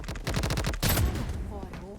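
Automatic gunfire in the first-person shooter Blood Strike rattles in a rapid burst, followed by a sharper blast and a fading tail, with no talking.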